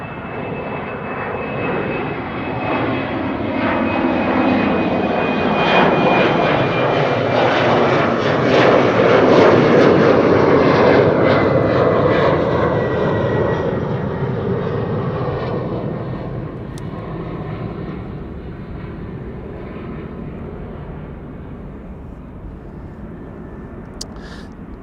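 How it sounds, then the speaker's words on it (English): A Cathay Pacific Airbus A350-1000 jet rolls and climbs away on takeoff from Amsterdam Schiphol's Aalsmeerbaan runway, its engine roar swelling loud with a thin whine on top, then fading slowly into the distance. "Cathay Pacific A350 1000. Taking the Aalsmeerbaan. Departing for Hong Kong, flight 270."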